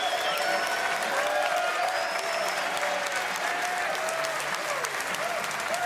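A crowd at a professional bowling tournament claps steadily throughout, a dense, sustained wash of applause with faint voices and whistles mixed in and no commentary over it.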